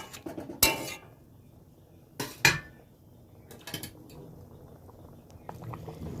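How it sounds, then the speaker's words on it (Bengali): Metal lid set down on a cooking pot of jackfruit and prawn curry, with a few sharp clanks and clinks of metal on metal, close and separated by short pauses in a quiet kitchen. "এবার একটা ঢাকা চাপা দিয়ে দিচ্ছি।"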